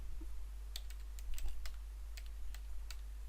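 Fingers tap on a computer keyboard in a short run of light, quick clicks, close but faint over a low steady electrical hum.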